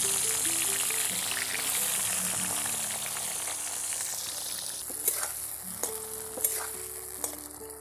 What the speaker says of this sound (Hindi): गोभी को अच्छे से लाल लाल तक करके फ्राई करेंगे